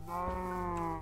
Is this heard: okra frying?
no